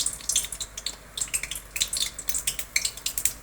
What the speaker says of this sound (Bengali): পটলগুলোকে আমি এক এক করে ভাজছি। তেল আমার গরম হয়ে গেছে।